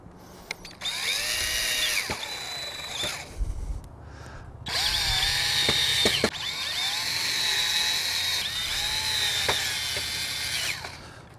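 Power driver sinking screws through a metal flap to fit a Bestop Trektop NX on a four-door Jeep JK Unlimited, several whining motor bursts that rise and slow as each screw seats, close and loud.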